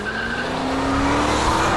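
Tyres on a 2007 Ford Shelby GT500 squeal continuously while it drifts, a loud sustained screech with a slowly rising pitch over engine roar, no talk.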